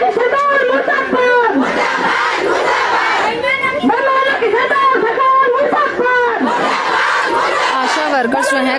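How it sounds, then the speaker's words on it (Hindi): ASHA workers chant protest slogans against the government as a loud, dense crowd of shouting voices, rhythmic and continuous, with overlapping calls that rise and fall in waves close by. "आशा वर्कर्स जो हैं काफी आक्रोश में और लगातार सरकार के खिलाफ नारे लगाए जा रहे हैं"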